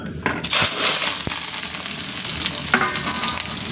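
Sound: garlic, shallots, chili and curry leaves frying in oil

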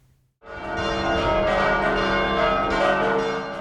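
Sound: church bells ringing

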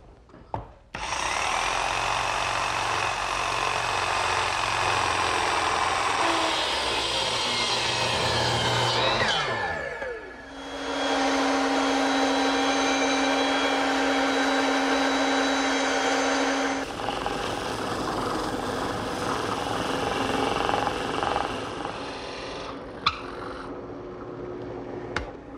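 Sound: jigsaw cutting oak wagon handle

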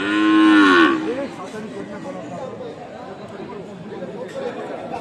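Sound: cattle mooing at a livestock market

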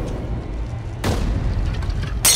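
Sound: petrol bomb explosion in a film scene

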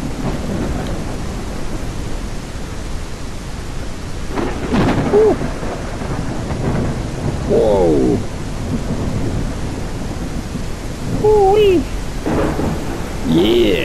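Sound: thunderstorm with rain in VR kayaking video game Kayak VR: Mirage

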